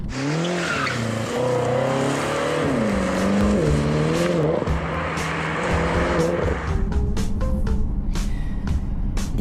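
A new-generation BMW M6 F13 with turbocharged engine and robotized gearbox drives around town, its engine note rising and falling through gear changes, then sharp clicks and thumps near the end.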